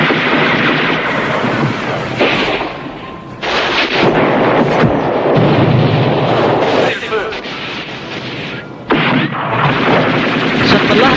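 A World War 2 battle of heavy gunfire and artillery, with loud continuous booms and rumbling blasts at close range under someone narrating throughout.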